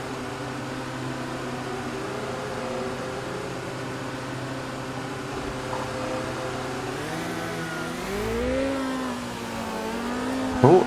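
Formula 1 race car engines at the 2008 Brazilian GP in the Automobilista 2 racing game hum steadily around the pit lane, then one rises in pitch as it revs and accelerates away near the end.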